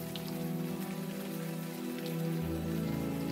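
Steady rain pours down in the video game Unavowed, a dense continuous hiss of drops on surfaces with a low rumbling bed, loud and unbroken throughout.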